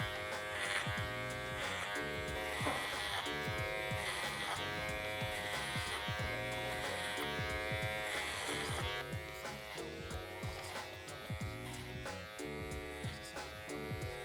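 Electric hair clippers buzz steadily and close while cutting hair for a high taper fade, clipper-over-comb work, a continuous hum with faint rhythmic shifts as the blades pass through the hair.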